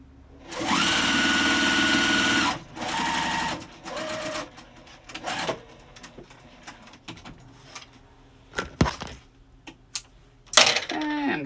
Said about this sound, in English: I'm going to take this to the machine and stitch it on